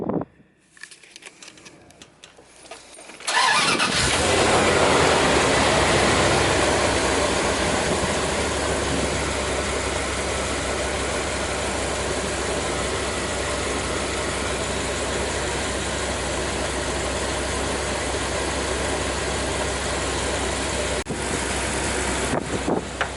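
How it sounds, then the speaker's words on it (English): After a few quiet seconds an engine starts and settles into a steady, even idle that rumbles on unchanged, close and fairly loud. "let me go ahead and restart the van and let it run for a little bit"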